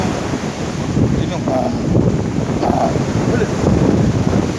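Sea waves on a beach shoreline, a constant rushing surf mixed with heavy wind buffeting the microphone, loud and close, with faint voices briefly audible beneath.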